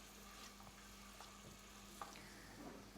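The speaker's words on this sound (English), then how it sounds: "Then I'll just put in my garlic, chopped garlic. And let it fry for about a minute or 2." Chopped garlic fries in a pan with a soft, steady sizzle and occasional faint stirring scrapes, quiet and close, with no talking.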